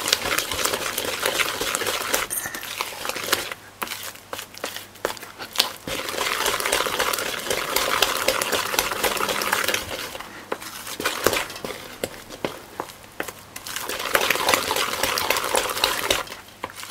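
Spoon stirring thick banana bread batter in a bowl, a continuous scraping, sloshing mix with brief pauses, close and fairly loud with no talking.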